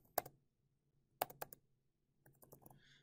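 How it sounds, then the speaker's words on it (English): Notes are typed on a computer keyboard in quick bursts of crisp, close key clicks separated by brief pauses, with no talk. "And then I can come down here, type in my notes"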